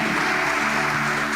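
Audience applause at a church campaign service: a dense, steady wash of many hands clapping, loud and sustained throughout the short moment with no pause.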